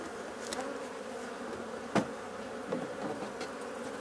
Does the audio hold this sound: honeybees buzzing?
yes